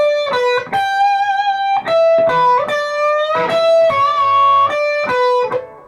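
A slow electric guitar lick, the intro to a song, rings out alone as a string of sustained, bent single notes with slight distortion, played deliberately with brief gaps between phrases.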